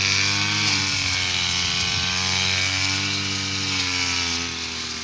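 Grass cutter engine running at the roadside, a loud steady two-stroke drone with buzzy harmonic whine, held close and continuous with only a slight dip near the end.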